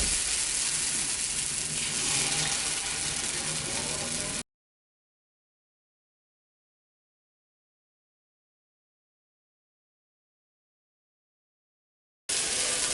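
Corn paniyaram batter frying in hot oil, giving a loud, steady, close-up sizzle that cuts off abruptly into silence and then briefly returns at the very end.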